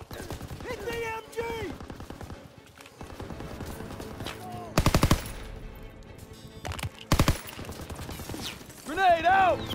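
Bursts of machine gun fire from a hayloft position during the D-Day Normandy assault in Call of Duty: WWII, loud rattling volleys standing out over battlefield noise, shouting and music.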